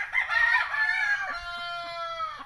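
A yellow-legged Hatch broodcock rooster crows once in a long, loud, close cock-a-doodle-doo that trails off into a sustained tone, with a few soft clucks underneath.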